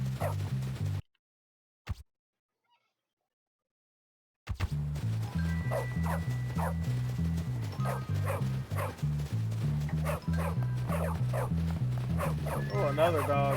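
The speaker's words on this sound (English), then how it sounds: "Oh, another dog." A dog in the video game Bully: Scholarship Edition gives repeated rhythmic barks and yips over looping game music, loud and close, after a brief silent gap.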